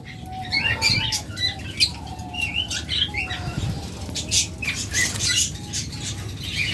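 A pair of crested budgerigars in a cage gives quick, bright chirps and short whistled calls over soft fluttering and rustling, fairly close and continuous.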